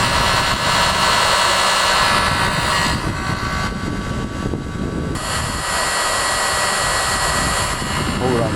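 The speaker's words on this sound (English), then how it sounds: "So I just have a standard regular heat gun, nothing special. This is a Wagner." A standard Wagner heat gun roars continuously at close range, a loud steady rushing whoosh with a slight dip in tone midway, no talk over it.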